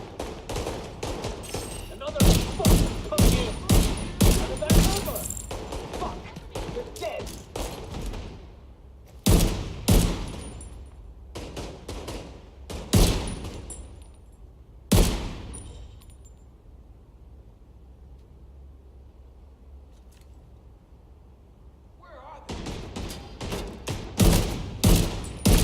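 Gunfire in The Division 2 video game: loud bursts of rapid automatic shots and single cracks come in clusters, separated by quieter stretches of ambient game sound, with occasional talking.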